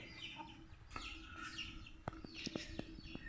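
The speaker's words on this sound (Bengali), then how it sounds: "মুরগি" Chickens cluck near a rabbit hutch in a home yard, several short clucks and calls breaking out over a steady outdoor hiss, with a few sharp knocks in the second half.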